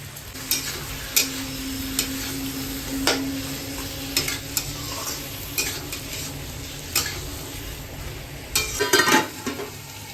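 Chopped onions fry with cumin and whole spices browned in hot oil, a steady sizzle broken by repeated sharp scrapes and clatters of a spoon stirring the pan.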